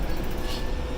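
A TEXRail commuter train runs with a steady low rumble and broadband rolling noise, close and continuous for about a second, with no talk over it.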